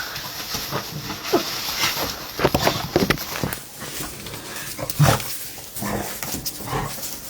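A shelter dog racing around excitedly, with rapid scrabbling footsteps, bumps and brief noises coming and going over a hissy indoor background. There is no talking.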